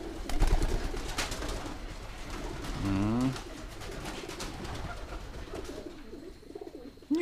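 Pigeons coo in a pigeon loft, low throaty rolling calls and rustling close by, with one louder warbling coo in the middle and scattered wing flutters around it.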